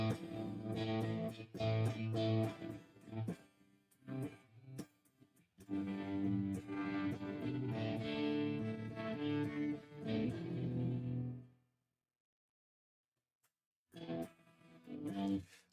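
Stratocaster electric guitar played through an AC30-style amp, likely the Producer 84, with chimey strummed chords and picked phrases, loud and close, pausing briefly near the end before resuming.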